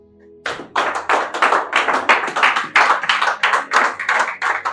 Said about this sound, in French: Acclame fortement le Saint-Esprit.